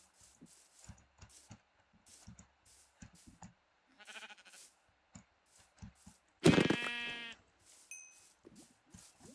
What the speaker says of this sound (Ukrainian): О, овечки чую.